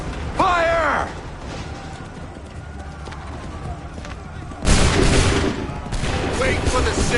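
Musket volleys crack out in Assassin's Creed 3, a sharp burst of massed gunfire near the start and another louder fusillade later, with shouted commands and battlefield noise around them.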